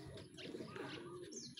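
A young pigeon cries with short, soft cooing calls at close range, faint and rising briefly over a low background hum at a racing pigeon training release.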